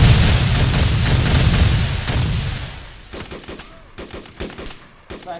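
Gunfire in a military video game: a loud sustained burst of shooting and booms at first, fading into sparse sharp individual shots nearby.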